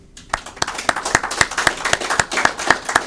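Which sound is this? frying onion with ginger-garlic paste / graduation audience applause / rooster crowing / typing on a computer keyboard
graduation audience applause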